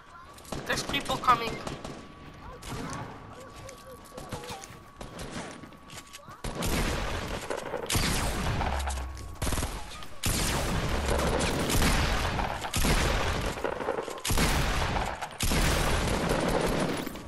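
Bursts of rapid gunfire ring out in a Fortnite match, sustained automatic volleys stacked with single sharp shots, loud and dense through the second half, with a player talking over the early part.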